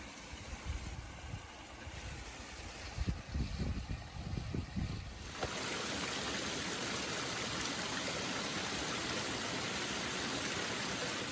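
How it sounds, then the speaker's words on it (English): Spring water flows beside a hiking trail in Lassen country, first a softer trickle with some low thumps, then a steady close, full rushing wash that fills the second half alone. "there's supposed to be a spring down here"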